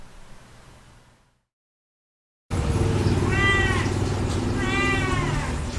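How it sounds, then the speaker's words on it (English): A stray black and white kitten gives two clear, rising-and-falling meows over a steady hiss of background noise, following a brief stretch of near silence. "He was a stray kitten wandering around, probably looking for food."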